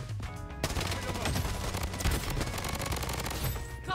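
Rapid, sustained gunfire from the shooter video game Bloodstrike, including a P90, with dense bursts overlapping almost without pause across the whole stretch, loud and close, mixed with game effects and music.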